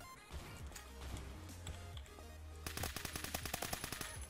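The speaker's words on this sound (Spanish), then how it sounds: "Eso es una RPK. Eso es una maldita RPK. Nos está disparando." An RPK machine gun firing in Roblox Phantom Forces, a quick run of sharp, evenly spaced automatic shots that grows louder and crisper in the second half, close and with no talk.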